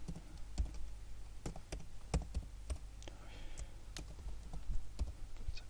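Someone types a math function into GeoGebra on a computer keyboard: irregular bursts of sharp key clicks, close and fairly loud, with short pauses between keystrokes.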